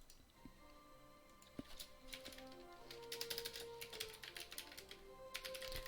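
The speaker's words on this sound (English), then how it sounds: "I love the keyboard you gave me, but I cannot type for beans today" Computer keyboard typing comes through as faint clusters of quick clicks and taps, growing busier toward the end, over a quiet background with soft electronic tones.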